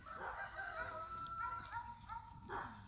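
A rooster crows in a long drawn-out call at a moderate distance in a quiet countryside setting, the call rising and holding before trailing off, with faint ambient background and no talk.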